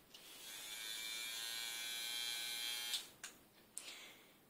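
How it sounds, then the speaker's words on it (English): Battery-powered nail buffer buzzing steadily at close range for about three seconds with a high, even whine, then cutting out, followed by a few brief clicks and knocks. "This is a battery-powered nail buffer."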